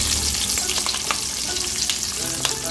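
Sausages sizzling steadily in browning butter and olive oil, a dense close frying hiss with occasional stirring clicks and pops throughout.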